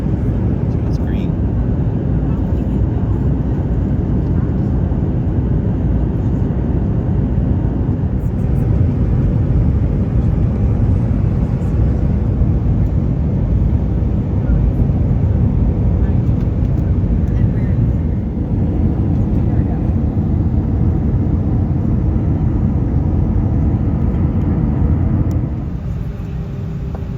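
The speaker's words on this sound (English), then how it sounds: "There goes a jet." A jet aircraft flies over Louisville, Kentucky, making a broad, low, continuous rumble that holds steady for nearly half a minute and fades near the end, with voices heard faintly under the roar.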